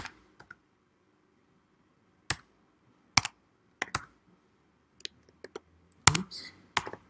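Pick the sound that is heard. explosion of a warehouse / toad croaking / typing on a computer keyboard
typing on a computer keyboard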